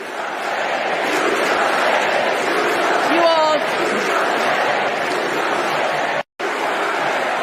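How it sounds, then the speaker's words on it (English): A packed stadium crowd at the Democratic National Convention, during a presidential nomination, roars and chants together in a loud, continuous mass of voices that cuts out for a moment before resuming. "DNC crowd chants do something as they nominate a presidential candidate who has been in power for 4 years"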